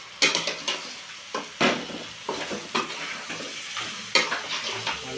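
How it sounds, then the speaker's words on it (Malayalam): Chicken is stirred in a pan over a high flame, with a steady sizzle punctuated by a dozen sharp, close spatula scrapes and clanks in quick irregular succession, with no talk. "ചിക്കൻ ചേർത്ത് അത് നല്ലോണം നമ്മൾ മിക്സ് ചെയ്യണം. നല്ല ഹൈ ഫ്ലെയിം വെച്ച് കൊടുക്കണം."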